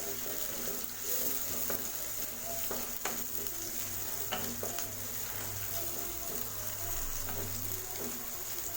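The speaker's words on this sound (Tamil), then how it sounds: "சேர்த்துட்டு இதையும் வதக்கி விட்டுருங்க." Green chillies sauté with ginger garlic paste in a pan for Tamil egg rice, a continuous close sizzle punctuated by irregular spatula scrapes and taps throughout.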